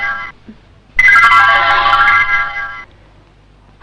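A mobile phone ringtone plays as a loud, bright melodic ring for about two seconds and then stops, with quieter background before and after.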